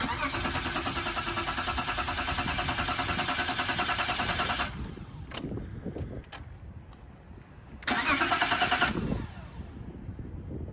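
A 1992 BMW E34's starter cranks steadily for several seconds without the engine catching, stops, then cranks again in a shorter burst, with people talking nearby.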